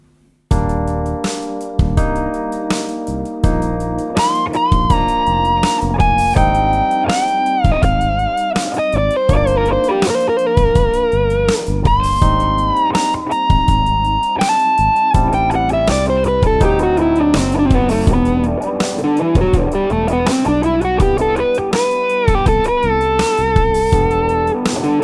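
Fusion electric guitar solo line from a song recorded 1986: a long, fast, legato run of distorted, effects-laden notes with bends and sweeping phrases, loud and continuous with no talking.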